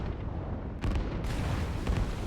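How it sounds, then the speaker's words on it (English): Artillery firing in the strategy game Line War, booming over infantry: a dense low rumble with two or three heavier thumps and bursts layered over continuous battle noise, no voices. "these artillery that are firing in over the top of their own infantry"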